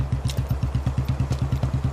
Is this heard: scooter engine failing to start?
yes